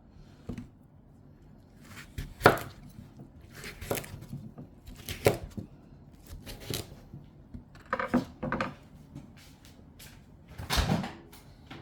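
An old pumpkin being chopped into pieces, several sharp knife thuds against a cutting board at irregular intervals, close and fairly loud against a quiet background.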